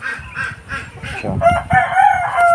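A rooster crows repeatedly, a raspy call rising and ringing out close by, with clucking from other chickens on a Filipino farm keeping stag gamecocks.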